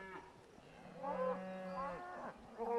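Cattle on pasture moo in long, drawn-out calls, one sustained low moo followed by shorter ones, heard from a moderate distance over soft outdoor ambience.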